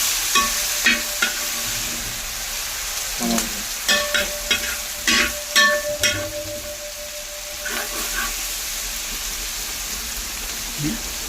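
Onion and garlic frying in a pan for biryani, a steady sizzle with scraping stirs and spoon knocks coming in bursts, some faint background voice murmur underneath.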